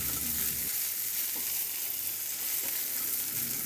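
Bite-size pieces of pork belly (liempo) fry in a hot pan with a steady, close sizzle and soft crackle, a faint low thump near the start and no talking.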